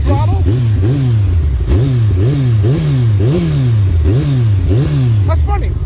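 A 2022 Suzuki Hayabusa motorcycle engine revved repeatedly, loud and close, in a steady series of sharp throttle blips that rise and fall about every half second.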